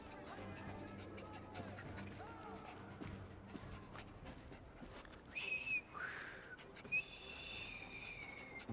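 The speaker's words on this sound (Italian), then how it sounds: "Ho appena imparato a fischiare." A character whistling in the video game Assassin's Creed Syndicate, a few short rising whistle notes near the end amid game ambience, footsteps and background chatter.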